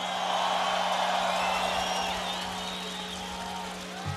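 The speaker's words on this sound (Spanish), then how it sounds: "un aplauso, por favor." A festival crowd at Vive Latino 2010 applauds and cheers for the bass player of a rock band, a broad wash of clapping and whoops over steady band hum, continuous and fairly loud.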